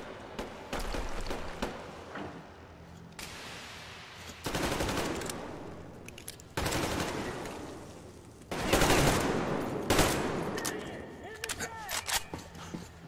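Bursts of automatic gunfire in the video game Metro Exodus on PlayStation 5, several sustained volleys separated by short pauses, loud and close, with some game voices faintly mixed in.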